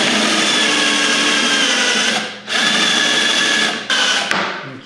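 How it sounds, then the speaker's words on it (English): A power drill whines at high speed, boring steadily into wood, briefly easing off twice before spinning up again; close and loud, no voices. "While we're in the drilling mode, let's go ahead and drill some more."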